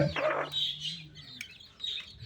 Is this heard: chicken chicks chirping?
yes